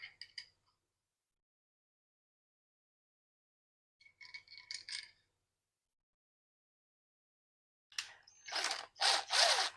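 A ratchet clicks in three short bursts, spaced by pauses, while tightening rod cap bolts on a big block Chevy engine, close and fairly quiet, with a faster, louder run at the end.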